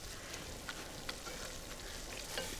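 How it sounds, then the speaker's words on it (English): Onions sizzle with vinegar in a hot pan for burgers, a steady, dense crackling hiss that stays even throughout with small pops and no voices. "I love the vinegar when it hits the hot pan"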